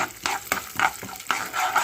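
Dry chillies, urad dal, chana dal and peanuts frying in a tempering, a close sizzle with a spoon scraping and stirring in quick repeated strokes.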